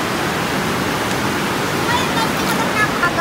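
Water runs steadily from a tap, a loud, dense rushing hiss that stays constant throughout.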